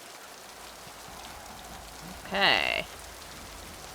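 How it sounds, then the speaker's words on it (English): Steady rain falls across an outdoor scene in Mass Effect 2, a soft continuous hiss that holds throughout, with a brief spoken word breaking over it near the middle. "Oh, it's raining."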